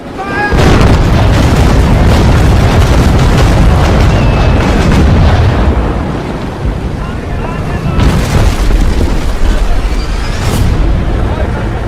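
Ship cannons fire during a Spanish naval attack in an audio drama about Magellan's voyage, with loud, heavy booms rolling into one another over rushing wind and sea noise.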